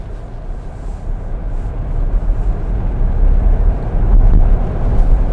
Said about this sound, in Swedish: hon säger att den här bilen låter som ett pågatåg